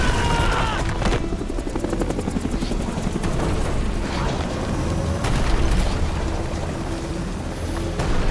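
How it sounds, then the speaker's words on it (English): Hind gunship helicopter in Metal Gear Solid Delta, its rotor thumping in rapid regular pulses over a heavy, continuous engine roar, loud and close, with occasional deeper booming swells. "The Hind gunship is an interesting helicopter."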